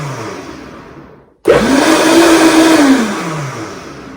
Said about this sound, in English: And then put it on the blender